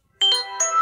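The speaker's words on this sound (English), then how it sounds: "What was that sound? That was my phone." A phone ringtone sounds once, a short bright chime of two or three quick rising tones, loud and close against silence.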